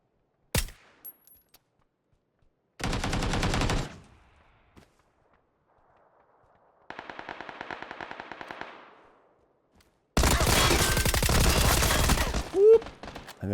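Gunfire in the battle-royale video game PUBG on console: loud bursts of automatic fire in separate blocks, a dense rattling volley, then a sustained heavy barrage, with short gaps of near silence between.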